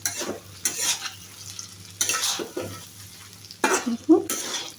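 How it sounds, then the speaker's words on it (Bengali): Fried carrot, flat beans and potato pieces stirred in a pan for a cabbage and tangra fish dish: close, repeated bursts of scraping and sizzling, separated by quieter pauses, with no talk. "এবার আবার একটু নাড়িয়ে চাড়িয়ে দেবো।"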